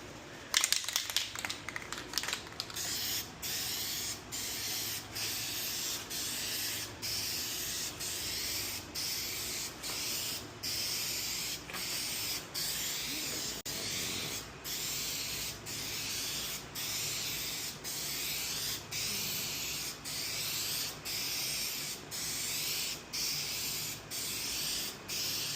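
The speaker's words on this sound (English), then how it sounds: "These have a very small spray pattern, so you need to kind of be careful with it" Short bursts from a spray paint rattle can hiss out one after another in a steady rhythm while painting a 1988 Mazda RX7, close by, with a faint rattle at the start and no talking.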